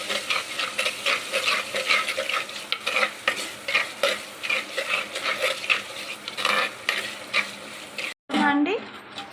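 Masala with ginger-garlic paste and turmeric fries in a pan for prawn curry, a loud close sizzle broken by rhythmic scraping and clinking stirring strokes, with a brief cut near the end.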